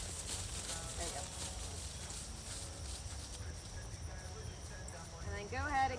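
A horse's hooves clip-clop in a field during flatwork riding, a faint rhythmic beat of hoofbeats under a rider and trainer talking.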